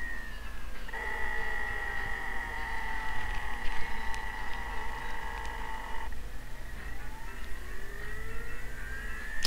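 Failing 1TB hard disk drive powers up with a rising whine and layered motor tones that hold steady for several seconds, then cut off and spin down with a gliding pitch, heard up close without any voices.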